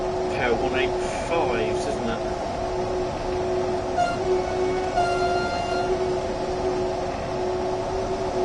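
Train in the Train Sim World 2 video game, a sustained mechanical hum with a tonal whine and brief horn-like tones early on, steady throughout, with a voice talking over it.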